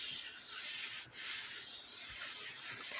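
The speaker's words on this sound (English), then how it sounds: "Help me rub it on out, Josh." Paper rubbed by hand over a gel printing plate, a soft, steady hissing scrape, close and fairly quiet, with a brief pause partway through.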